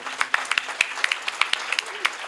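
Scattered applause from a conference audience in Spanish after a talk on technologies, with sparse, uneven individual claps rather than a full ovation, fairly close and moderately loud.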